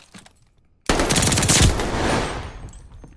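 Loud burst of rapid automatic gunfire firing incendiary rounds in Call of Duty: Vanguard, a dense close volley of shots lasting a couple of seconds after a quiet start, then decaying.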